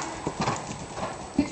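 A ridden horse cantering during a jumping lesson, its hooves clip-clopping in a quick, steady rhythm close by while a rider or instructor talks over it.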